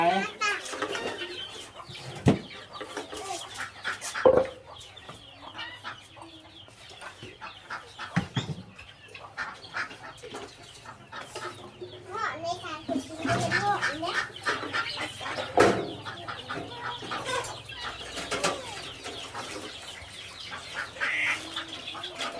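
Chickens cluck and call intermittently around a rural Thai household yard while people talk and prepare food nearby. The birds are moderately close and mixed in with the voices and clattering.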